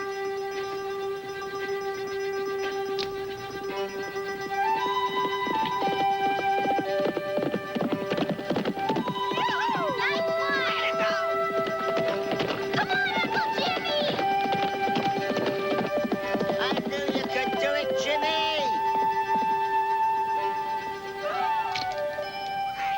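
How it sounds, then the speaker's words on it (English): A racehorse gallops on a track while being timed over a quarter mile, a quick, rhythmic clip-clop of hooves rising and carrying under dramatic music, with a few distant voices. "So, Randy, clock that horse for a quarter mile."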